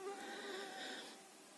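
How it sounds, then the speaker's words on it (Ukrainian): Mosquitoes whining in a forest during mushroom picking in the Rivne region: a faint, thin, continuous buzz hovers near the ear over quiet woodland background and fades slightly toward the end. "Ох, комарів стільки"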